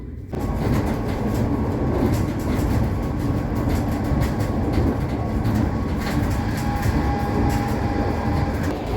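Inside a moving Transport for Wales Class 230 train, a loud continuous rumble with rhythmic clicking of wheels over rail joints carries on steadily, no speech.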